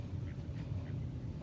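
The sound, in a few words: duck quacking at a fishing lake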